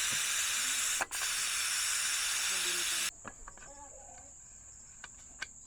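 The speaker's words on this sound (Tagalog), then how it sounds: "ito ay pasisingawin nyo lang mga kabayan hanggang sa maubos yung pressure na yan" A pressure cooker holding spiced garlic butter pork trotters vents steam in a loud, steady broadband hiss for about three seconds. The hiss then cuts off abruptly, and a faint high whine and soft clicks remain.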